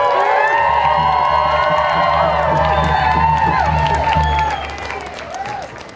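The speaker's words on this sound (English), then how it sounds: "Can we give him one more round of applause?" A large outdoor crowd at a climate strike rally applauds and cheers loudly after a speech, dense clapping with whoops and shouts that ease off toward the end.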